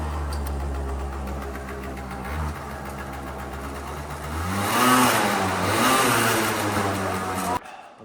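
Small cheap moped engine, carburettor gasket just patched, running after a restart: a steady buzzing idle that rises into a revving surge midway before settling, then cutting off abruptly at the end.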